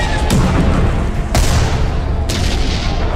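A Civil War volley of musket fire from Michigan soldiers comes as three heavy, booming blasts spaced about a second apart, loud and close over a rumbling battlefield background.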